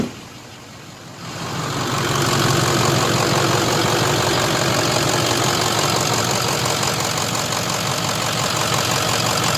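A 2006 Ford F-350 Super Duty pickup engine idles steadily up close, a loud, continuous rumble with a faint knocking texture that swells in over the first couple of seconds.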